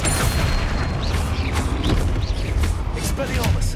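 Flipendo spell impacts land in Hogwarts Legacy amid constant rumbling battle noise, with several quick whooshing hits and thuds spread across a loud, busy mix.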